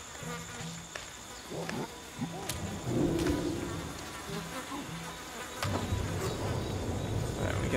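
Bees buzzing at a bee nest in the video game Ancestors: The Humankind Odyssey, a low insect drone amid outdoor ambience with scattered clicks, faint and alone.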